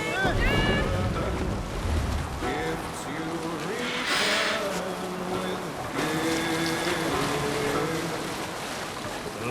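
Viking longship rowed across open water in Assassin's Creed Valhalla, with steady wind and wash of waves under a crew's sustained singing voices throughout.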